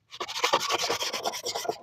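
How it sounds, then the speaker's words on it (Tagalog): Motorcycle fairings being hand-sanded with fine 1000-grit sandpaper before repainting, giving a steady close rasping rub in quick repeated strokes for about two seconds with no talk. "Kaya linisan natin muna yung ating fairings ng liha na unang red."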